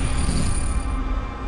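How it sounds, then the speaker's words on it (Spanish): Stones roll and grind on a shore, heard as a steady, loud, dense rattling wash with no voices. "Oye el ruido de las piedras de fondo"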